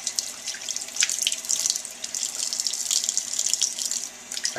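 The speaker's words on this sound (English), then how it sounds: "Wash the clam off." Tap water runs steadily into a sink while a clam is rinsed under it, a close, continuous splashing stream.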